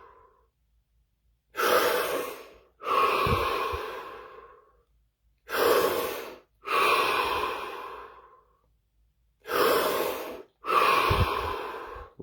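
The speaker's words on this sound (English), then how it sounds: "5 deep breaths, followed by 30 seconds of absolute stillness and silence." Three pairs of slow, deep breaths, each a long breathy inhale followed by a fuller, sighing exhale, close and loud with silent pauses between pairs.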